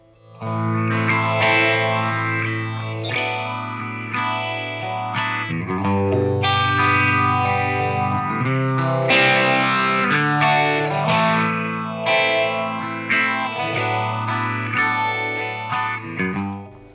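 Electric guitar with chorus and overdrive distortion in an early hard rock style, played as sustained chords and ringing arpeggios, loud and continuous with a shimmering, wide tone and no talk.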